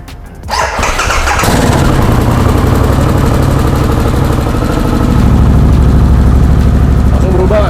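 Harley-Davidson Sportster S with an aftermarket valved exhaust, the engine barking up and then holding a loud, rumbling idle close to the microphone, with a voice briefly heard under it.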